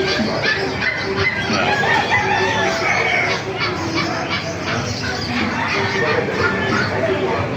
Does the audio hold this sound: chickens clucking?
yes